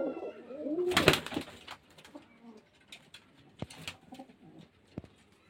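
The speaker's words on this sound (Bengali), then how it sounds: "পায়রা প্রচুর পায়রা আছে, পায়রাগুলো দেখাচ্ছে" Pigeons coo low and close at a pigeon sale place in Beldanga Uttarpara, with a sharp loud burst near the start, likely wing flapping, then quieter scattered coos, flutters and clicks.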